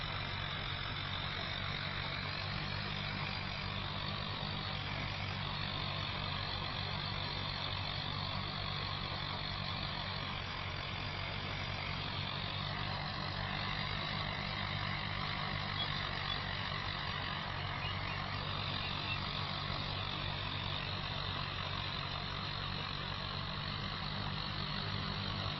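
Tractor engine in Farming Simulator 25 runs at a steady low drone, a constant rumbling idle with a slight rising and falling, heard alone with no talking.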